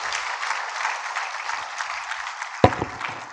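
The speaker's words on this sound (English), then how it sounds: "a great warm round of applause to our professor here" A conference audience at the Afreximbank Annual Meetings gives a warm round of applause for a professor, a full, even patter of many hands with a louder clap near the end.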